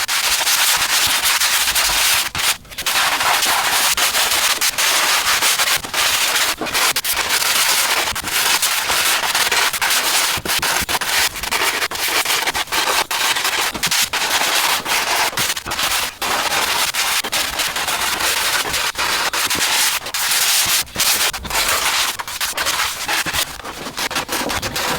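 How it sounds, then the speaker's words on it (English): Continuous hand sanding of model aircraft wing panels, a steady loud scratchy rubbing with rhythmic strokes throughout, close up with no talking. "They've had the initial sand."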